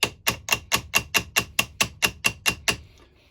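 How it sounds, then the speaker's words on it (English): A hammer taps metal thirteen times in a steady, even rhythm, each strike sharp and ringing, then falls silent; a bigger hammer tapping gently to work out a screw thread. "if you've got a bigger hammer and tap gently, it is a bigger hammer"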